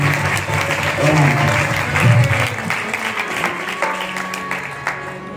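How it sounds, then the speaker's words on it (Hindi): Loud, steady applause from an audience at a Ram Katha religious discourse, a dense wash of clapping that runs the full length with no voices over it. "जोरदार तालियों की करतल ध्वनि के अंदर उनके चरणों में"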